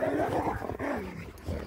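A pack of sled dogs in a forest barks and yips excitedly, a dense, continuous chorus of overlapping calls close by, with some growling and whimpering mixed in.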